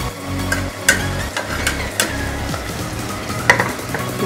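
Spoon stirring a frying Hyderabadi mutton biryani masala with tomato and coriander, a steady close sizzle broken by several sharp scraping clinks against the pot.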